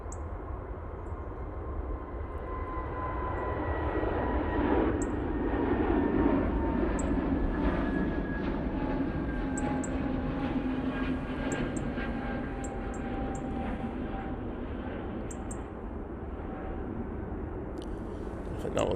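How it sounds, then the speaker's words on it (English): An SAS Airbus A320neo departing Manchester Airport gives a long, steady engine roar that swells and then slowly fades, with a descending whine and faint clicks over it. "Next out is the SAS A320 Neo."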